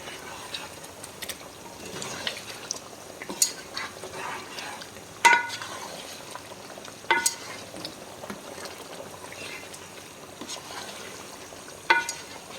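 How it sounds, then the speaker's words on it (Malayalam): A spoon stirs roasted-coconut chicken curry after chicken masala and pepper powder go in, making a quiet, steady simmer with a few sharp scraping clicks against the pot spaced several seconds apart. "കുറച്ച് ചിക്കൻ മസാല ഇട്ടിട്ട് ഒന്നുകൂടെ നന്നായിട്ട് ഇളക്കുക"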